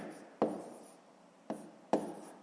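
A pen scratches across paper while working a fifth-grade maths exercise, three short distinct strokes spaced apart against a quiet background, close and soft.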